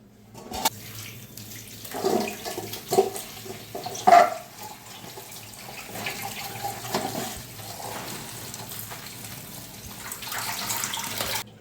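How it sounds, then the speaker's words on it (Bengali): Tap water runs steadily as red amaranth greens are washed in a kitchen sink, with a few louder splashes and handling bursts over the flow and no talking. "শাকটা কেটে নিয়েছি, রসুনটা ছাড়িয়ে নেব, ভালো করে ধুয়ে নেব।"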